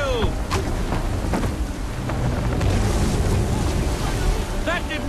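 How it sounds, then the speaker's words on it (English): A strong gale howls over open sea in a naval sailing scene from Assassin's Creed 3, with a loud, dense roar of wind and water, storm rumbles and sharp creaks throughout. "That wind will push us hard up those rocks"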